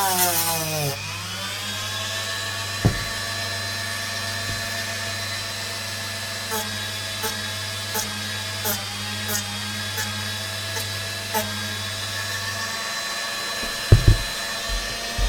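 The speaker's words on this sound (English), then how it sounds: "I'll get the Dremel noises out of the way and do both of them as quick as I can." A Dremel rotary tool grinds battle damage into a Nordic pauldron, a steady high whine with bright harmonic tones running almost the whole time, broken by small clicks and a few knocks near the end.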